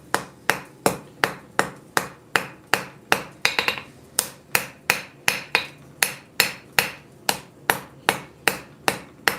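Hot steel struck at a forge while tapering a knife tang, with a steady, even run of about twenty-two loud, ringing hammer blows close by and a brief cluster of quicker taps in the middle.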